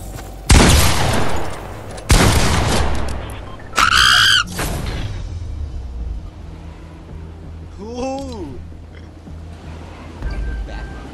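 Fortnite gunfire comes in several loud, sharp bursts of rapid shots close by, followed by quieter game effects and chirping tones, with a player talking in between.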